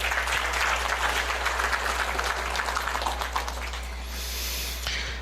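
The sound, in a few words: audience applause at ceremony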